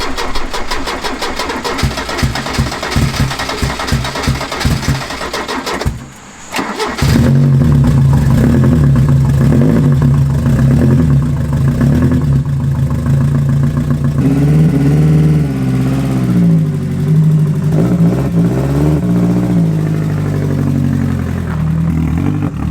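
A Land Rover LR4 cranks with a rapid chugging starter rhythm, goes quiet briefly, then fires up loud and close, settling into a steady idle before several throttle blips rise and fall in pitch.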